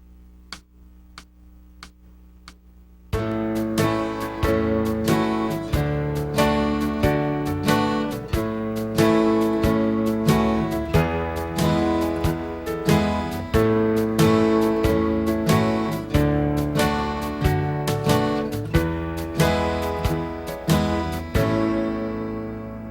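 An acoustic guitar song mixing plucked bass notes with down strums, played at a steady beginner's pace after a few soft ticking count-in clicks; the strums ring loud and full with a regular rhythm, no talking.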